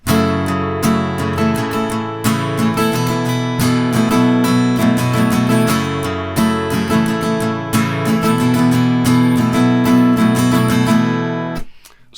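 A guitar plays the main riff of a song, rapid strummed and picked notes, loud and close, repeating steadily before cutting off at the end.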